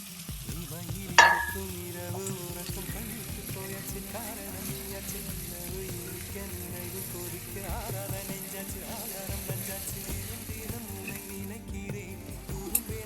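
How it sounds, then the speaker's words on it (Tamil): Ivy gourd fries in a pan while ground masala is stirred in, giving a steady close sizzle with occasional scraping and one sharp clink of the utensil against the pan, without talk. "ஒரு நிமிஷம் இந்த மசாலா நல்லா காயோட மிக்ஸ் ஆகிற வரைக்கும் கலந்து விட்டுக்கலாம்"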